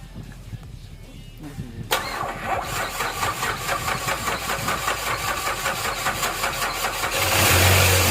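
A Ford Escape engine cranks, catches and settles into a steady, pulsing idle that rises slightly toward the end, heard close and alone.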